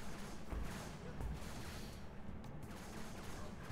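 Rapid, dense gunfire and explosions from the Halo 3 campaign on Legendary difficulty, with sniper rifle shots among a continuous loud barrage and a few heavier thumps.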